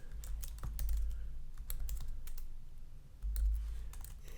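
A username is typed on a computer keyboard, with quick irregular key clicks in short bursts and brief pauses, close and fairly quiet, no voices.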